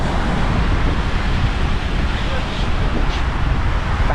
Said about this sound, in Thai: ลมก็พัด เป็นลมร้อนนะครับ ที่มากับคลื่นอะไรอย่างเงี้ย